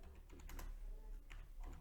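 Keys clack softly on a computer keyboard while a command is entered at a Python command prompt, a handful of faint, quick taps with no talking.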